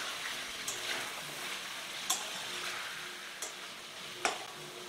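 Chicken pieces frying in oil for butter chicken give a steady, soft sizzle throughout, broken by a few faint sharp pops and clinks, with no one speaking.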